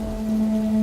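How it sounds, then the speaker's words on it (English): Heavy cartoon-style rain pours steadily in a fierce storm, a dense, even wash of falling water with a low steady hum beneath it, no voices. "it started raining heavily"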